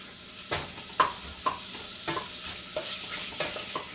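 Macaroni browns in a sizzling pan and is stirred. A spoon scrapes and clinks against the pan every half second or so over a soft steady frying hiss.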